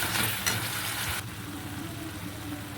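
Spice paste with tomato and chilli frying in a pan for a prawn and pointed gourd curry, a steady hissing sizzle that drops abruptly to a quieter, lower frying hum partway through, close and unaccompanied by speech.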